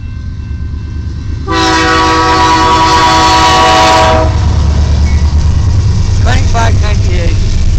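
Long CN westbound mixed freight train led by locomotive CN 2598 passing in Port Huron, Michigan: a loud horn blast for several seconds over rumbling wheels, then steady rolling clatter with people talking nearby.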